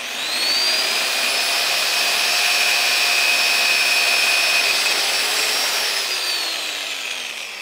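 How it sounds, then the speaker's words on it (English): Power drill boring a 3/8 inch hole into the bottom of a wooden birdhouse, a steady high whine held loud and close for several seconds before easing off slightly. "I'm going to drill a 3/8 inch hole in the bottom because I want drainage in here"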